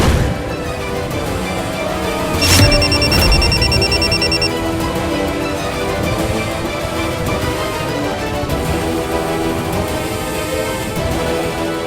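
A phone rings with a bright electronic tone for about two seconds amid loud, busy background music and noise.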